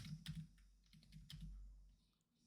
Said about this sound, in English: So I'm just typing this all out for you.